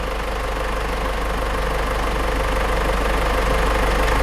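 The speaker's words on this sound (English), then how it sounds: "car running now" A car with a suspected head gasket problem idles steadily during a scope test, a continuous low mechanical hum with faint rhythmic pulsing at moderate level and no voices over it.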